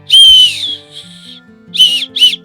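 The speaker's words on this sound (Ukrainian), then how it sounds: "Є грудний і поясні ремені, а ще вбудований свисток." A small whistle built into a backpack chest strap gives one long shrill blast, then a softer short note, then two quick sharp toots close to the listener.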